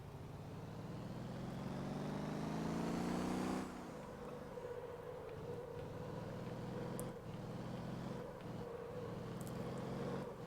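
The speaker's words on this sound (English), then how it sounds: "Let me just jump into the car again, and today we are gonna do a bit of urgent taxi driving." A car engine in the driving game Motor Town drones steadily, revving higher for the first few seconds before dropping to a lower, continuous hum with a few small bumps.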